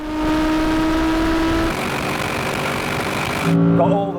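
An Audi RS6 GT launching off the start line in a race against an R8 GT, its turbo engine held at a loud steady drone before the pitch shifts upward near the end as it pulls away.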